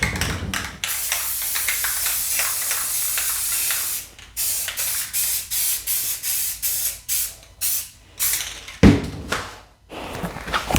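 Brand-new spray paint cans hissing out blue and black paint in long loud bursts, broken by brief pauses and a clattering knock near the end.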